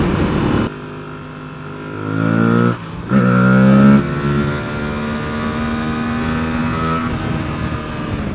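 A motorcycle at a Nürburgring bike gathering revs hard through its gears during a wheelie, the loud engine note climbing and dropping with a sharp gap between bursts, then settling into a steady close drone.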